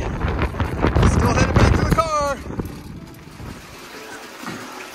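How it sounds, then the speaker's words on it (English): Strong wind outdoors at a gold prospecting site with a 12-volt powered highbanker, roaring and buffeting loudly against the microphone before easing off, while a voice briefly sounds over it. "Oh my god, the wind."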